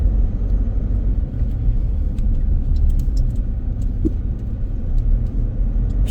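Heavy road traffic on a busy Singapore road with construction on both sides, heard as a steady, loud, dense rumble of passing cars and engines throughout, with no talk.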